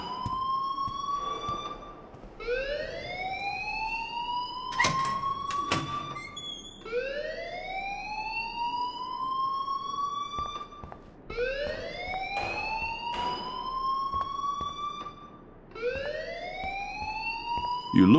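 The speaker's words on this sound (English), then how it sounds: "please turn off that alarm since that's your" An alarm in the video game Life Is Strange repeats as a loud rising electronic wail, one sweep every two and a half seconds or so, with brief clanks and knocks in between.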